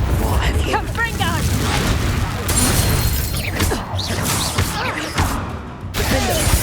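A Confringo spell bursts in Hogwarts Legacy, a loud booming explosion amid crackling spell effects and game combat, with a voice calling out over the noise.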